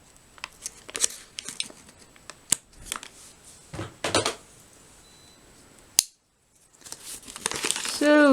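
Scissors cutting open a paper-wrapped Canadian IMP ration parcel, with crinkling and rustling paper, sharp snips and a brief silence before louder crumpling, close up, with a voice speaking in places.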